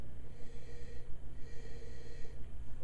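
Close sniffing at a glass of Parducci red wine: a steady, breathy inhale with soft rushing noise, repeated as a few short draws over roughly three seconds, with no talking.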